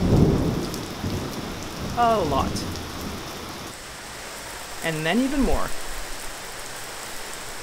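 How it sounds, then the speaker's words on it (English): Heavy rain falls onto a wooden deck as a steady, dense hiss with occasional low rumbles, while a person speaks briefly twice over the downpour. "it unexpectedly rained."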